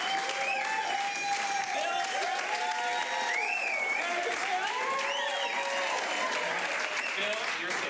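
Audience at a live showdown clapping loudly to vote, sustained dense applause throughout with voices and talk mixed in.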